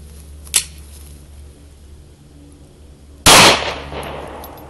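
A pistol fires at a target outdoors, with one loud, sharp blast late in the clip followed by a decaying tail. An earlier, smaller click or tap comes first, with no talking.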